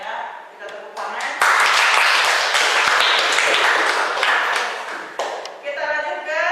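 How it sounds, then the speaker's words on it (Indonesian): Students in a high school economics class clap for a group after its presentation, a burst of close, busy hand clapping in the classroom that rises suddenly and fades, with a teacher's voice before and after. "Kita tepuk tangan."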